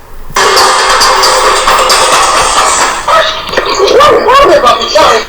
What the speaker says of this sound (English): A home security camera captured a dog yapping as a man walked past.